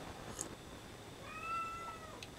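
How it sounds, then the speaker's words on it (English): A cat meows indoors, one drawn-out rising and falling cry in the middle, faint and alone above a low steady background hiss. "We seem to have a cat joining in"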